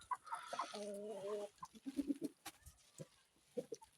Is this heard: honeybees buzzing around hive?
no